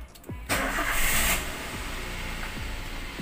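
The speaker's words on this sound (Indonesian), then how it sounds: "Oke, dan mobil bisa hidup ya" A Toyota Avanza engine cranks briefly and catches after a keyless push-button start, settling into a steady, close idle with no talking.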